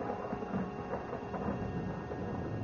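Thunder rumbles as a radio drama sound effect, a steady low, muffled roll with a rain-like hiss, faint and continuous without distinct cracks.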